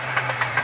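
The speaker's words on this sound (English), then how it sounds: "SD42 leads this small local train out of the siding and up to the Norfolk Southern main line." Rhythmic clickety-clack of a small Norfolk Southern local train led by an SD42 diesel locomotive, pulling out of a siding toward the main line; regular wheel clicks over a steady low engine hum, fairly close.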